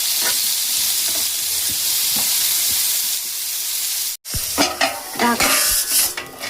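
Pumpkin pieces with salt hiss loudly and evenly in a hot pan for several seconds, then after a brief break a utensil scrapes and tosses them, giving uneven clattering bursts over the sizzle; no one speaks.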